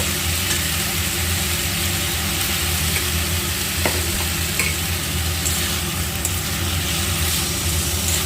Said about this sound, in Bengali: এখানে পাঁচটা চিংড়ি আছে আচ্ছা এটা ভালো করে আমি একটু কষিয়ে নেব